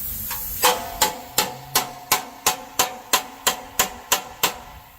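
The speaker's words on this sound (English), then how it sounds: "Just get the hacksaw on it now and cut that ring out." A hacksaw cuts out a ring from a Nissan R32 subframe with steady, evenly timed rasping strokes, about three per second, close by and with no talk.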